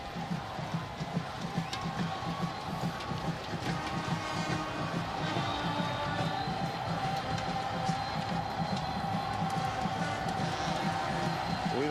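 Broad murmur of a football stadium crowd filling in before kickoff of a 2012 Buffalo at Northern Illinois college game, a steady distant roar under faint talk, with wind noise throughout.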